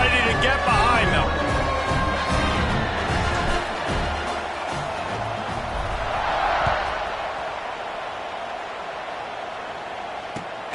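A big college football stadium crowd at USC vs Washington roars and cheers in a dense, sustained wash of noise around kickoff, swelling slightly midway, with commentary talk running over it.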